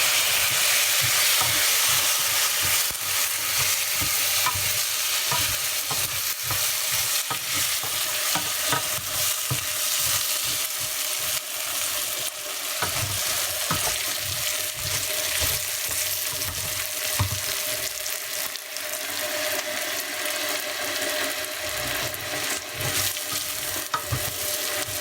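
Rice with vermicelli for Egyptian rice fries and is stirred in a pan, a dense close sizzle broken by a continuous run of rhythmic spatula scrapes.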